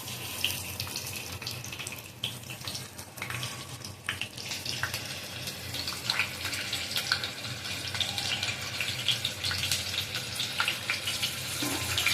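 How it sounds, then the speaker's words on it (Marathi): Large green chillies stuffed with coconut masala fry in a pan on the stove, giving a steady close hiss of sizzling oil, broad and even throughout, with faint clicks and pops. "आता मिरची तळली गेलेली आहे"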